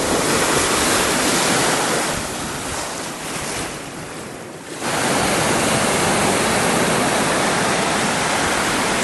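Rough Lake Superior surf crashes onto a rocky beach in a loud, continuous roar of breaking water, dipping briefly in the middle before surging back, with wind buffeting the microphone.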